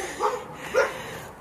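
A puppy on a run-down rural property with a trash-filled shed gives two short, high yipping barks about half a second apart, fairly close and alone without talk.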